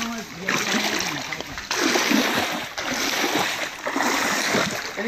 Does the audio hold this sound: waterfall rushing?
yes